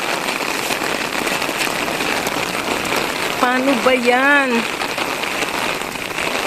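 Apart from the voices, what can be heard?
heavy rain falling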